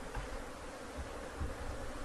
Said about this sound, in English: So these are all killer bees.